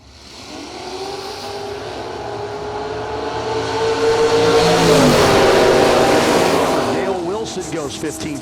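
A 1970 Pontiac GTO at a drag strip roars down the track, its engine climbing steadily in pitch as it accelerates through the gears, loud and close before fading slightly at the end.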